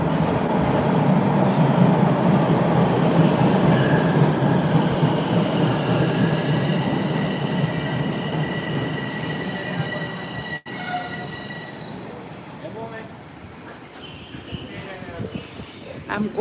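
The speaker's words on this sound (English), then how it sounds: "Here goes the train." A Toronto subway train rolls into an underground station with loud, sustained wheel squeals and rumbling rail noise that ease toward the end as it slows, while background voices murmur faintly.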